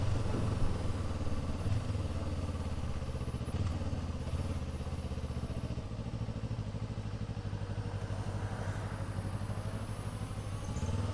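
A hybrid motorcycle rumbles steadily along, its clattering mid-pitched engine hum shifting slightly partway through as the drive changes over between electric motor and engine, continuous and close with no talking.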